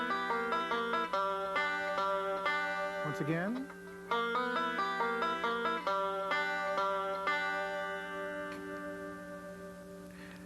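A banjo playing a bluegrass roll phrase ending with a quarter note and pinch: bright, rapid picked notes in steady rolling patterns over a sustained drone, with a brief pitch-bending slide midway and a short spoken word.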